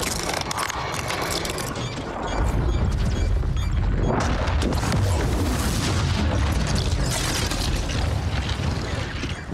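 A dense, roaring blast from Mortal Kombat 11 swells and sustains loudly, with crashing and rumbling debris layered over it.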